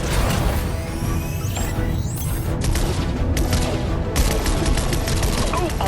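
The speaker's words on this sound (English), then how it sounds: "I was hoping we'd have an excuse to try out the battle bus's laser cannons." Laser cannons on the Fortnite battle bus blast at drones, dense rapid volleys of sharp zapping shots with booming impacts, loud and continuous alongside game effects.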